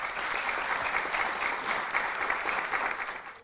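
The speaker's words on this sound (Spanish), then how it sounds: "los recibimos a todos con un fuerte aplauso" Audience applause welcoming speakers at a real estate brokers' association talk in Buenos Aires, a steady dense wash of clapping sustained for a few seconds before tapering off at the end.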